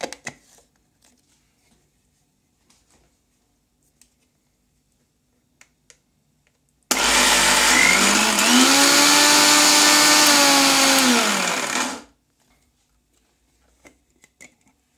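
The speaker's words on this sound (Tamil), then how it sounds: "இதை நம்ம மிக்சியில் எடுத்துக்கிட்டாச்சு. இதை நம்ம இப்போ சுற்றிக்கலாம்." A kitchen mixer grinder blends rasgulla dough in one loud, whirring burst of about five seconds, its pitch shifting as the motor runs before cutting off abruptly, with only faint clicks in the quiet before and after.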